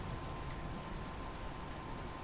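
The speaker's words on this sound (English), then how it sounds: "You all begin to step outside and are immediately soaked and drenched by the downpour of rain as a massive thunderstorm" Heavy rain downpour, a steady broadband hiss of water on surfaces during a massive thunderstorm over a city, continuous and even throughout with no clear thunder crack.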